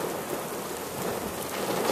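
Steady rain falls outdoors on a humid day as a storm approaches, making a dense, even hiss with no voices or breaks.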